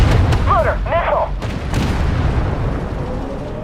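A tank in the Armored Warfare game fires a missile: a heavy booming launch with a rumbling low tail, followed by short radio-style voice chatter and a fading echo.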